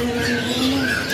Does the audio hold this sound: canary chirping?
yes